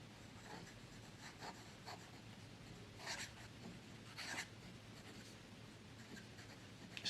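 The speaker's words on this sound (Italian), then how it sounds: "Scrivo qualche parola così a caso, tanto per metterla alla prova." A Pilot fountain pen nib, Falcon SEF or Custom 74 SF, scratches across paper as a few words are written. The strokes are soft and close, with brief louder scraping bursts among quiet pauses.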